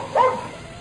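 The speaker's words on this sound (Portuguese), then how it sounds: "O cachorro tá muito latindo, muito alto." A dog barks briefly and fairly close in a home recording, one short bark with little else around it.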